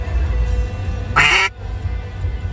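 A single loud, nasal quack blown on an Echo Diamond wooden timber duck call, close by, standing alone against a low background rumble.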